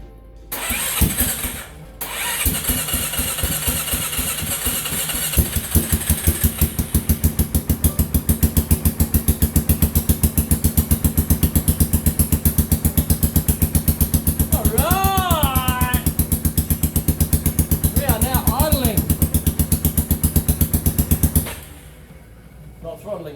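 A Yamaha Kodiak 450 ATV engine, freshly adjusted at the throttle butterfly, idles steadily up close with a rapid even chatter after a brief start, with a short squeal partway through, then cuts off near the end.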